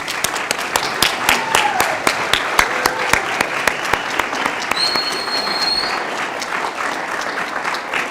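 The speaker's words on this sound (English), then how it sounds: "Please join me for one more round of applause." Applause for probation corrections officer academy graduates at a graduation ceremony, a dense, steady crowd clapping indoors with sharp individual claps standing out, loud and continuous throughout.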